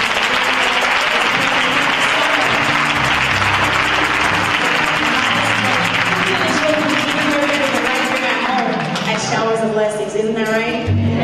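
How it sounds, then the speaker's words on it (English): In an 11 AM worship service, the congregation claps in a sustained, loud round of applause, with voices mixed in and a speaker beginning to talk near the end. "Give yourselves a round of applause."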